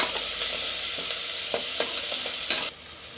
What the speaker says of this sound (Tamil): போட்டு நல்லா வதக்கிக்கிறோம்